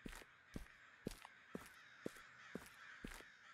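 Crows cawing in the Chilla's Art horror game Okaeri, a steady series of about seven harsh caws spaced roughly half a second apart over faint outdoor ambience, fairly distant and alone with no talk.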